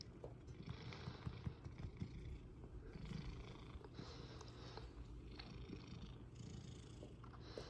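Soft, steady purring from a cat close by, rhythmic and continuous with faint breathy pulses, no talking.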